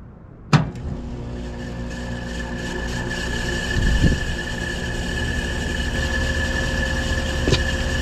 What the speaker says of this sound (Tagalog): Kaso medyo maingay yung kanyang condensing fan.